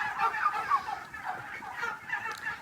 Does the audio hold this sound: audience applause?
no